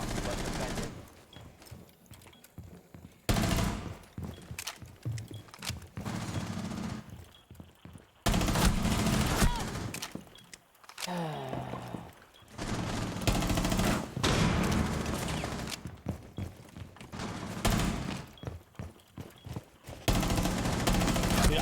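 Bursts of automatic gunfire in the shooter game Rainbow Six Siege, loud repeated volleys separated by quieter gaps over roughly twenty seconds.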